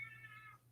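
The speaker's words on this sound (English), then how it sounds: "every time we're on, he starts meowing like crazy because he wants to get up here and walk around" Kitten meowing in the background during a live show, one faint, drawn-out meow under a low steady hum.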